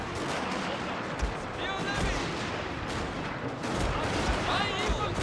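Musket cover fire in Total War Shogun 2: Fall of the Samurai, with rapid scattered gunshots and dense crackling volleys during a wall assault, with distant thumps underneath.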